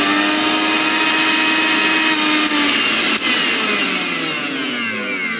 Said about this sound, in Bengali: ব্লেন্ডারের সাউন্ড এবং স্পিরিট অনুযায়ী বোঝা যায় ব্লেন্ডারটা খুবই হেভি এবং কি মোটরটা খুবই পাওয়ারফুলি